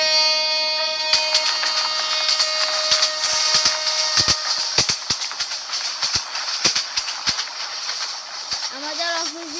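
A train runs on the Chittagong to Sholoshahar line, heard from inside as a steady rushing hiss with scattered sharp clicks and rattles throughout.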